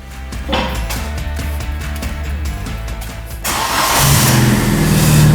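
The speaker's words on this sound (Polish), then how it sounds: "Najpierw rozgrzewamy ten samochód do odpowiedniej temperatury." A Fiat Seicento's small engine runs during warm-up, starting with an uneven chugging idle. It then shifts into a louder, rougher roar as revs rise, close and steady.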